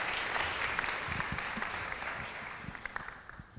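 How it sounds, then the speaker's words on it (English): Audience applause for panelists at an education working session on building resilient societies, a steady wash of clapping from a room of listeners that slowly thins and fades toward the end. "Give a round of applause to all of our panelists for being here today."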